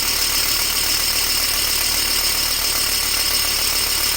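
A steady, unbroken engine idle drones on at close range, its even mechanical rumble likened to an old air-cooled VW Beetle, with a buzzy, slightly rattling texture and no voices.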